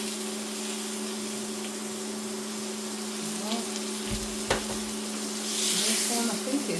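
Herby lamb steak sizzles steadily in garlic butter in a pan just after flipping, a continuous frying hiss with small pops and brief clatters, swelling louder near the end.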